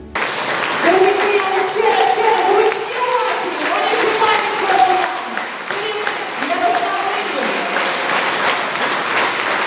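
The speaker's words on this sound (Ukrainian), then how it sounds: "Присутні із великим задоволенням слухалися у кожне слово, виконане муніципальним хором боян та бурхливими оплесками подякували йому" An audience gives lively, sustained applause after a performance by a municipal choir, with tonal sound and voices mixed in beneath the dense clapping.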